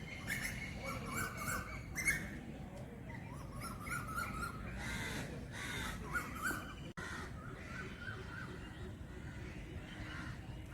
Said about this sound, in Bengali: পাখিগুলো, এই দেখো কিচিরমিচির শুনতে পাচ্ছ